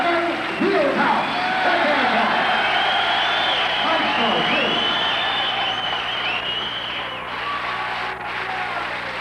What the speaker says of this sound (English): And have a nice round of applause for Kevin VIELDHOUSE.